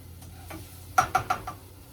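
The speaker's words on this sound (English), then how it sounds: "Okay, so we put the rice in, and we're going to mix it up." Dry rice grains scraped and stirred around a hot pan for toasting, with a few soft sweeps followed by three or four distinct close scraping strokes in quick succession.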